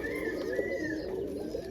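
Roller pigeons coo in a loft, a steady low murmuring drone of several birds close by, with a higher thin tone running through it and no talking.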